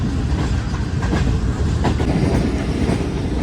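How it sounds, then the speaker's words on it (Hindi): The Awam Express passenger train runs on rails in Pakistan, heard from inside the coach as a loud, continuous rumble with rhythmic wheel clatter and track knocks throughout. "भाई नवाबशाह के बाद ट्रेन की स्पीड जो है वो काफ़ी बेहतर हुई है"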